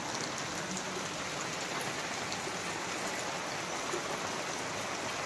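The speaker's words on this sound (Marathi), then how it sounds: "हे पूर्ण पाऊस पडते" Heavy monsoon rain pours steadily on a Konkan home on a morning, a dense, even hiss of drops on surfaces with no pauses and no voices.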